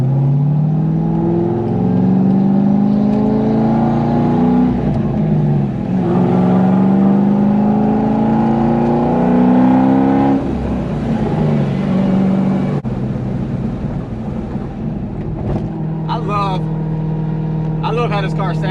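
A C5 Corvette Z06 engine drones steadily through laps, rising and falling in pitch as it accelerates and shifts, with a noticeable whine riding over the exhaust; near and loud, with brief voices near the end.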